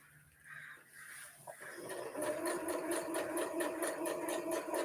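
A sewing machine stitching a Halloween-themed square table topper starts up after a quiet moment and runs steadily, a fast rhythmic whirring and clatter at moderate loudness that continues to the end.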